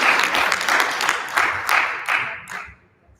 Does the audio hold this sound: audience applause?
yes